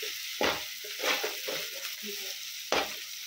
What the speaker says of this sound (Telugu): బాగా అల్లం బాగా కలపాలి